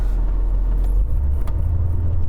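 Inside a car crawling through heavy San Diego traffic, a loud, steady low-frequency rumble of road and engine noise continues throughout, with a faint clink or two over it.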